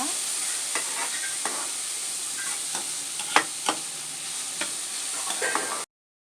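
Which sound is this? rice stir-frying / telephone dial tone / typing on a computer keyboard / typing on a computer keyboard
rice stir-frying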